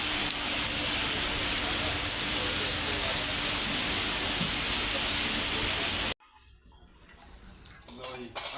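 Monsoon rain pours over a town market. A steady, dense hiss holds for about six seconds, then cuts off sharply to quieter street ambience.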